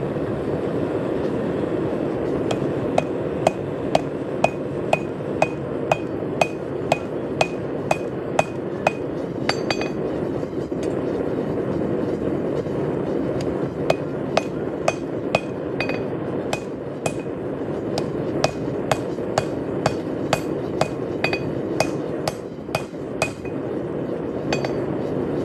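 A hammer forges a hot cut tool on an anvil, striking in steady ringing metallic blows, loud and close, repeated in runs with short pauses over a constant rumbling background.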